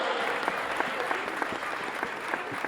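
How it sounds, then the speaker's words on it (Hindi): Audience applause at a Hindi poetry recital, a steady dense clapping from a crowd that runs through the whole span without talk. "एक बार तालियां बजा दीजिए"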